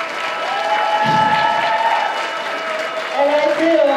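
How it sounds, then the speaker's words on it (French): At a cosplay award ceremony, crowd applause and cheering rise under an amplified voice talking over the room, the clapping moderate and continuous throughout. "on peut l'applaudir"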